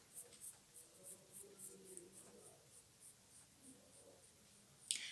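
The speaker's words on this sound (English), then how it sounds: "Now let's get started to draw it, to draw the first character by using a pencil." A pencil sketching a cute cartoon character's head on paper makes close, rhythmic scratchy strokes in a steady series of short bursts, with a brief sharper scrape near the end.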